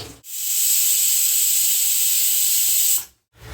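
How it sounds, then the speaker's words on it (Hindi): A pressure cooker of pork on a medium gas flame lets out a loud, continuous steam whistle, a bright sustained hiss that starts abruptly, holds for about three seconds, then cuts off. "गैस का फ्लेम भी मीडियम में डाल दिया है तो उसको थोड़ा सीटी आने तक रुकती हूँ।"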